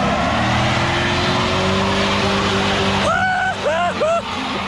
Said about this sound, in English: Yeah, that was a good burnout.